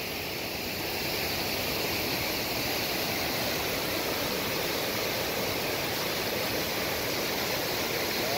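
McDonald Falls in Glacier National Park pours with a steady, broad rushing roar of falling water, constant and unbroken from start to finish with no voices.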